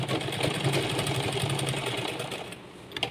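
A sewing machine stitches a folded sleeveless blouse in one fairly quiet, fast and even run of whirring that stops near the end, followed by a few faint clicks.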